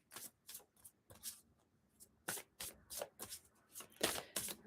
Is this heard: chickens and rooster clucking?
no